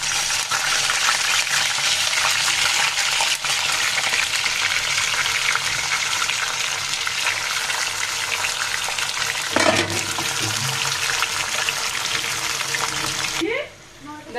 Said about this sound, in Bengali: এই তেলের মধ্যে মাংসগুলোকে ভেজে নিব।